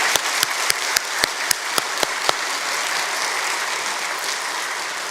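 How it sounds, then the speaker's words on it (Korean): A church congregation applauds in encouragement during a Wednesday worship service. Steady, dense clapping fills the room throughout, and a few sharp, regular claps stand out at the start. "격려와 응원의 박수 부탁드립니다."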